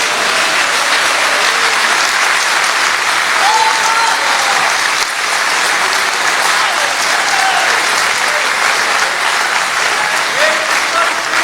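A church congregation applauding Jesus during a sermon, loud sustained clapping filling the room without a break for over ten seconds, dense and even, with scattered voices faintly mixed in.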